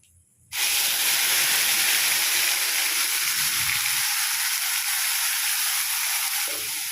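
A homemade spice paste for Bengali tel koi fish curry hits hot oil tempered with dried chilli and nigella seeds, bursting into a loud, steady sizzle that holds close and constant.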